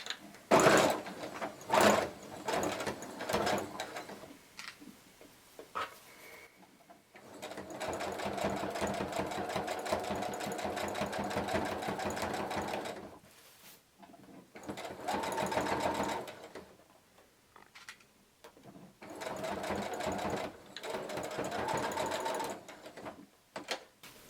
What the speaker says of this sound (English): We're going to sew and go slow because we're working with sequins.